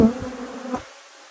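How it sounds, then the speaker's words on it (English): Loud, dense buzzing of many robbing honeybees close by at a hive, a swarming drone that fades off toward the end. "I have got a lot of bees here"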